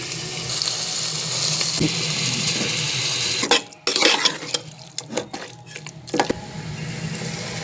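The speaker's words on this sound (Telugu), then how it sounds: "ఈ విధంగా మధ్య మధ్యలో అడుగంటకుండా కలుపుకోవాలండి" Chicken with ginger paste being stirred in a pan, first a steady frying hiss, then close, irregular scraping and clanking of a spoon against the pan over several seconds; no talk.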